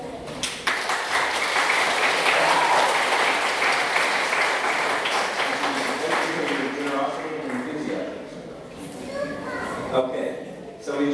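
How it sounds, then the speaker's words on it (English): Congregation applauding at a Sunday Mass in a church, a sustained burst of many hands clapping that fills the room for most of the stretch, then thins out as a few voices start talking near the end. "Okay, so we just clapped."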